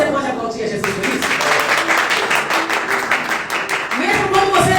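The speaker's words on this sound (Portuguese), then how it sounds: "Será que você pode aplaudir a Jesus por isso?" A church congregation claps together during an evening service, brisk continuous applause filling the space while a voice and music carry over it.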